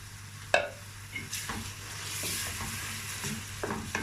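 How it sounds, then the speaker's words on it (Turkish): Chopped tomatoes sizzle in a pan with fried onions, a soft steady frying hiss broken by several sharp scrapes and clicks of stirring, fairly close and quiet without talk. "Domateslerimi ilave ediyorum."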